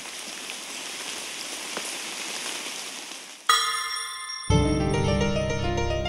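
Steady, soothing rain patters densely on surfaces for about three seconds. It then cuts off abruptly into bright chiming tonal music.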